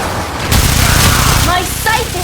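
Gunfire in the video game Warframe, a dense fusillade of rapid shots close up and loud, with game effects and brief tonal chirps toward the end.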